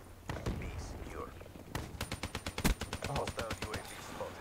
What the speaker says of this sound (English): God, KRM. It's too good.